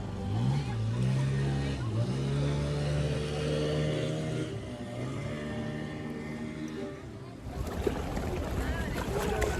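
A boat idling at a small jetty in Devbag, Malvan, on the Konkan coast, with a steady low engine drone beneath a person talking and a brief rougher burst near the end.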